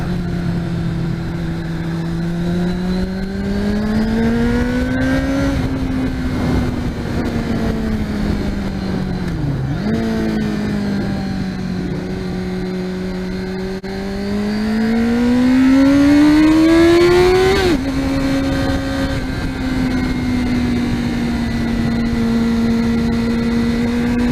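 A Kawasaki ZX-6R sport motorcycle with a Scorpion stubby exhaust idles, then revs up and down several times, a loud, close, throaty drone with rising and falling pitch.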